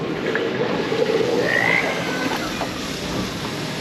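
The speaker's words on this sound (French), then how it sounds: "Il y a un bébé grenouille." A small young frog croaks near a wave-washed shore at Toverland, a short raspy call standing out over a steady wash of background noise.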